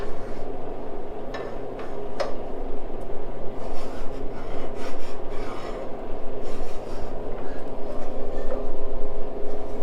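A hand file rasping across the warped metal surface of a Harley Davidson part to knock down high spots, steady, loud back-and-forth scraping strokes close up in a workshop, with no talking.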